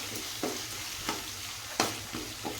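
Oil sizzles steadily in a pan while palak rice is made, with a spoon stirring and scraping in several distinct strokes over the continuous hiss, no voices.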